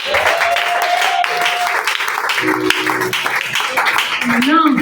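Audience applause at a church sermon fills the space steadily from start to end, a dense wash of clapping with voices and tones layered over it.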